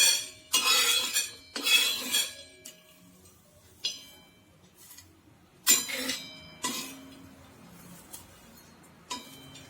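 Black peppercorns and stone flower spices are dry-roasted in a pan, with sharp metallic clinks and scraping from a utensil coming in irregular bursts separated by quiet pauses.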